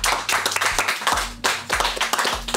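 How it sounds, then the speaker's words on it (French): A studio audience claps at a French talk show, a burst of close, sharp handclaps with an irregular rhythm that briefly thins and then picks up again. "On peut applaudir ça, merci."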